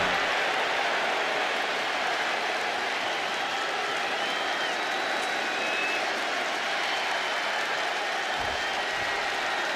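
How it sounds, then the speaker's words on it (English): Arena crowd in the WWE 2K26 wrestling video game roaring steadily throughout, a dense continuous wash of cheering and applause with no individual voices standing out. "Just listen to this crowd."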